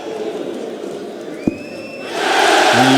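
Darts crowd at the Dutch Darts Masters 2019 quarter-final between Ian White and Vincent van der Voort, with a low murmur and a sharp thud before a loud cheer swells up in the last second.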